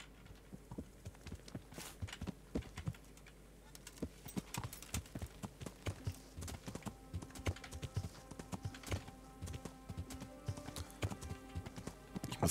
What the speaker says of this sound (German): Da müssen wir halt reiten.